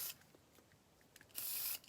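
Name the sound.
spraying into a gunked-up sewing machine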